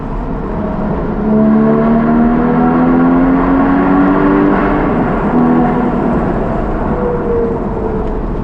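A manual Porsche 981 Cayman GTS engine revs up and holds a rising, steady roar, loud and close, with a smooth climbing tone.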